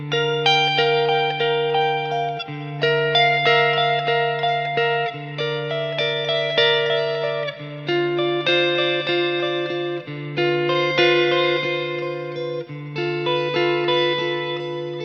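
Electric guitar strumming cluster chords, ringing voicings with a clean, shimmering effected tone, struck in a slow repeating rhythm, close and prominent.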